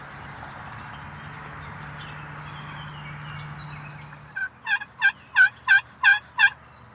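A wild turkey in Indiana woods, about 15 yards off, gobbles six times in quick succession, loud and close. The gobbles follow several seconds of low, steady background hum.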